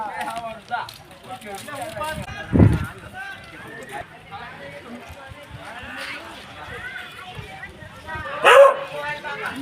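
A dog barks a couple of times, sharp and fairly close, amid ongoing talk and background chatter during the Uttarayan kite festival.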